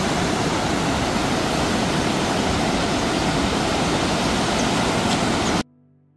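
Kallar waterfall running with high water pressure, a loud, dense, unbroken roar of rushing water that cuts off abruptly near the end.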